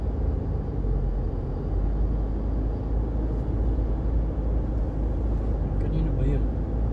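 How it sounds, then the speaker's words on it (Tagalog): A noisy road vehicle rumbles past in a steady, heavy low drone that fills the whole stretch without letting up. "Maingay na sasakyan."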